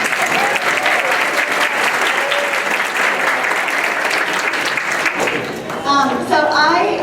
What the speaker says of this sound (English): Yeah, you can clap for him.